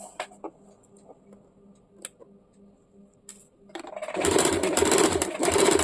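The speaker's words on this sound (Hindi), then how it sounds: "अभी मैं इसमें सिलाई करके आप लोगों को दिखा देती हूँ।" A sewing machine stitching a salwar waistband begins with faint clicks and small taps, then starts up into a loud steady run for the last couple of seconds, close by.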